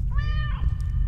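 A single drawn-out meow from a pet cat, close and clear, lasting about a second over a low background hum.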